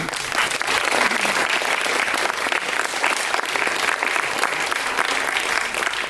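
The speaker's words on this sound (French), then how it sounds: "Vous voyez les applaudir, il est là." Sustained audience applause fills a film screening hall, a dense, steady clatter of many hands at constant loudness throughout, without pause.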